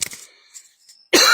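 One person gives a sharp cough and throat clearing close to a microphone, then a short stretch of near silence follows before a loud burst of noise cuts in.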